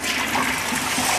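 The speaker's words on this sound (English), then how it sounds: "Open the valve, the water goes in, test for a flush." A household toilet flushes after its tank has been refilled, a steady rush and trickle of water running nearby throughout with no pauses.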